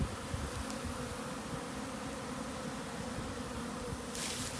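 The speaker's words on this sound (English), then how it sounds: "But these bees all should settle down and get right inside this box." A honey bee swarm buzzing around a hive box, a dense, steady hum of many wings close by and continuous without pause.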